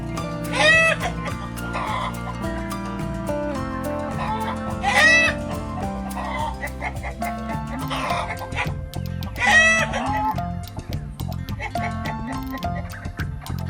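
A domestic chicken clucks in repeated bursts over a busy musical backing, the calls fairly close and recurring every few seconds.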